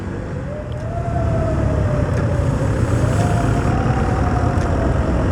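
An ambulance siren wails steadily in the distance, its pitch slowly rising and falling over loud, rumbling traffic noise in Antipolo City.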